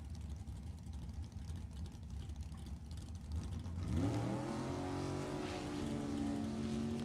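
A nostalgia drag racing dragster at an NHRA Heritage Series event, a distant roar giving way to a loud, rising engine note as the car launches and pulls away.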